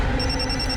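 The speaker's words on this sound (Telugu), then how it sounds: "నీ ఫోన్ రింగ్ టోన్ నాకు తెలుసు" A mobile phone ringtone sounds as a steady, high, pulsing electronic tone over a dense indoor background, with no talking.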